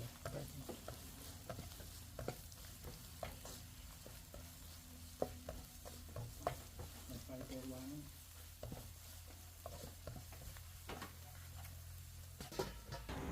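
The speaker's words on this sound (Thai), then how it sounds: "ใส่พริกที่เราตำไว้เมื่อครู่เนี่ย ลงไปผัดให้เขาส่งกลิ่นหอมได้เลยค่ะ" Pounded chilies stir-fried in hot vegetable oil in a pan for a Thai stir-fried glass noodle dish with minced pork: a steady close sizzle with repeated spatula scrapes and clicks, no speech.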